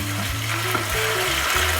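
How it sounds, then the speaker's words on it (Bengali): Ginger-garlic paste fries in a pan while being stirred, a close, steady sizzling hiss with scraping stir sounds and a low background hum throughout. "1 চামচ আদা রসুন বাটাটা দিয়ে 1 মিনিট নাড়াচাড়া করে নেবেন।"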